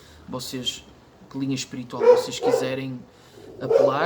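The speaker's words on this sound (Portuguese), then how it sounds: "Peço desculpa pelo cão." A dog barks a few times at close range, with loud harmonic yaps breaking through steady Portuguese speech.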